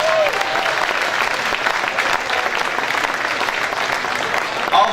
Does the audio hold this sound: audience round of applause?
yes